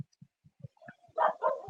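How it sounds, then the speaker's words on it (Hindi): A dog barks in a quick series of short, sharp woofs at moderate distance, followed by a louder, longer pair of yelping barks, with no talking over them. "ये कुत्ता किसके पीछे भौंक रहा है भाई?"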